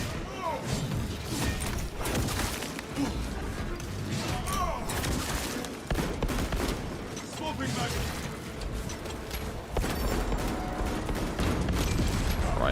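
Heavy gunfire and explosive impacts from a gun strike attack in the Space Marine video game, a dense, continuous loud barrage of blasts and thuds that runs throughout, with a voice speaking over it.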